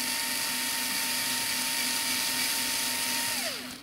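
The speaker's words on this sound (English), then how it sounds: "I need to turn my drill up on high." A cordless drill drives a screw into a build of an Edge 540, whining steadily and loudly up close for a few seconds before the motor winds down as the screw seats.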